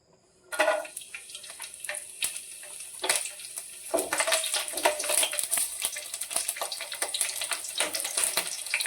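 Garlic dropped into hot oil in a pan on a low gas flame, bursting into a loud, bright sizzle that crackles and spits continuously close by, with no talking.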